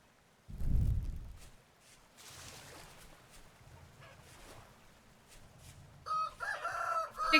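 In the game Vintage Story, a low thump is followed by soft farmyard ambience, then chickens cluck and a rooster crows loudly near the end.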